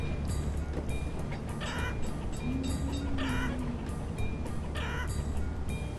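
Chickens in the village-building game Banished cluck and squawk in short repeated bursts about every second, over a steady low ambient game background with no voices.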